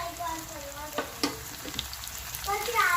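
Crushed tomatoes fry with ginger and garlic in a pan for an egg bhurji, giving a steady close sizzle broken by a few sharp stirring scrapes and spatters.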